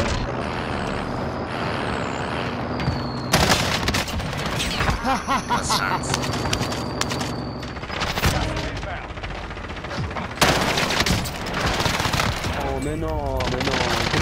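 Heavy gunfire in Call of Duty Modern Warfare, with bursts of automatic fire and loud booms running throughout, dense and close, layered with game effects.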